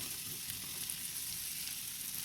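Sliced onion and garlic sautéing in a pan, giving an even, dense crackling sizzle that holds steady throughout, close and uninterrupted by voices.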